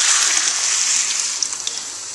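Water and tomato sauce pour briefly into a pan for jambalaya, a bright splashing gush that tapers off with a few small drips and bubbles.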